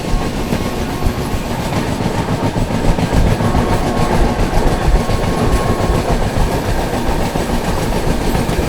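An Indian Railways train, the 22412 Arunachal AC Superfast, rolls along in heavy monsoon rain, giving a loud, continuous rumble with rhythmic wheel clatter and no talking.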